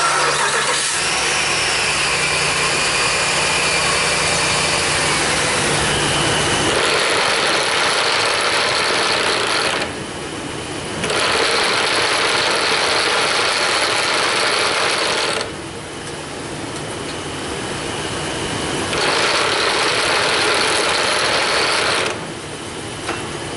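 A Dodge Ram truck with a stripped front axle stub shaft starts and idles, a loud, close, steady mechanical drone with grinding, ratcheting texture, dipping briefly a few times before resuming.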